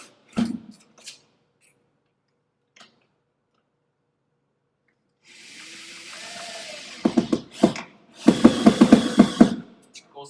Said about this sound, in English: I'm drilling into wood here, which is somewhat easier.